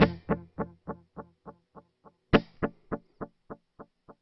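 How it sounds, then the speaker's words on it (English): Guitar through the 70s BBD-style delay of a NuX Atlantic delay and reverb pedal: two plucked notes, each followed by a string of evenly spaced echoes that fade and darken as they repeat, heard alone. "I'm going to go to the 70s echo here, the 70s delay, which is more of a BBD style"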